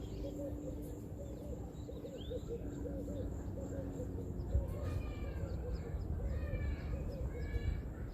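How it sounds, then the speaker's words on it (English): Bird calls and chirps over a steady outdoor background of insect buzzing, with faint birdsong scattered throughout at moderate distance. "listen to the sound of the birds"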